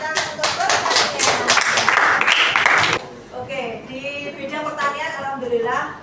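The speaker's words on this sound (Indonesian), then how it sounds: "Tepuk tangan untuk pertanian" An audience claps for an agriculture group in a classroom-style presentation: a dense, loud burst of many hands clapping for about three seconds, then cutting off as a voice continues speaking.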